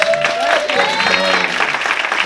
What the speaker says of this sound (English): Can we give this committee once again a round of applause?